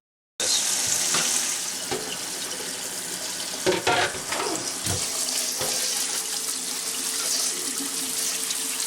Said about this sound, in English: You only want to put part of your vegetables in the colander to rinse to start with.